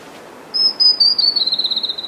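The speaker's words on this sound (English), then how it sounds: "And that's a tomtit." A Chatham Island tomtit in forest with a closed canopy calls in a high, thin whistle that breaks into a quick series of rapid repeated notes, clear and fairly close over quiet background.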